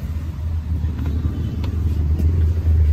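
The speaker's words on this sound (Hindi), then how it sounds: "अब योगेश जी टेस्ट ड्राइव ले रहे हैं" A Toyota car's engine hums during a test drive, a steady low rumble heard close up, as if from inside the cabin. It holds an even level throughout, with no one talking over it.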